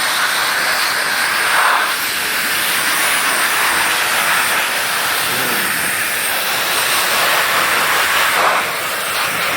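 An electric air blower duster runs steadily on its turbo setting, giving a loud, continuous jet-like rushing hiss close by for the whole stretch with only slight swells.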